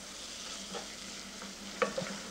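Crumbled Stilton cheese melting with fried onion in a pan gives a soft, steady sizzle, with a few light scrapes of stirring near the end; no voices.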